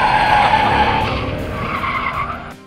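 An American sports car brakes hard, its tires skidding in a loud, sustained squeal close by that slowly fades and cuts off at the end.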